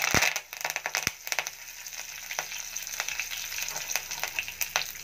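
Cumin, kasuri methi and curry leaves sizzle in hot oil with a steady bright crackle, broken by sharp spitting pops as the leaves hit the pan, close and fairly loud with no talk.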